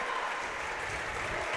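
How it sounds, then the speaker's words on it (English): A basketball crowd at a Port Allegany vs Galeton senior night game applauds and cheers a senior's foul shot, a brief, fairly loud burst of clapping with no voices over it. "this crowd just goes nuts every time a senior scores"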